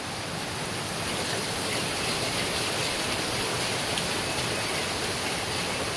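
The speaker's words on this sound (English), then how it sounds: "Now the rain's coming harder again." Heavy rain falling outdoors near a pond, a dense, unbroken hiss that stays loud and even throughout with no voices.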